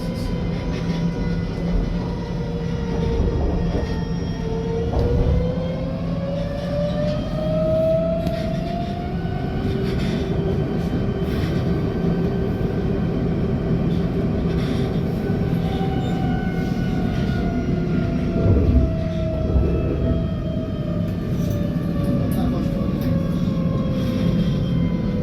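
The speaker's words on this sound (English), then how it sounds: "الترام يقترب من الياسمين." A Lusail tram rolls along steadily with a continuous rumble and rising, gliding motor whine, slowing slightly as it approaches Yasmin station; no voices.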